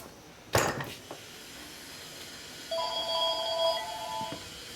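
A telephone rings in a quiet motorcycle workshop during a flathead Harley WL rod rebuild, with a couple of sharp knocks early on and then a steady two-tone electronic ring running for about two seconds, moderately close.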